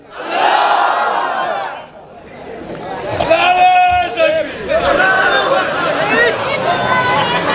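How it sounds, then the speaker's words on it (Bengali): A large crowd at a night sermon gathering roars a loud, full-throated takbir chant in unison, voices swelling and overlapping in repeated bursts close by. "এবার একটা তাকবীর দেন"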